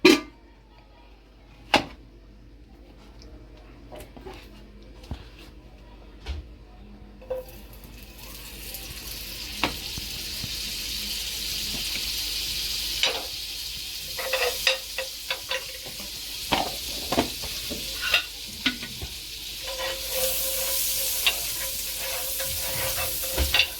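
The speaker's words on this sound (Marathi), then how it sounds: "तर थोड्या याच्यामध्ये थोडं तेल टाकूया आणि थोडं आपण बटर घेऊया मिक्स" Oil and butter heat in a pan over medium-low gas for tandoori chicken drumsticks. A faint sizzle with scattered utensil clicks swells into a fuller, steady crackle, while spoon taps and scrapes recur throughout.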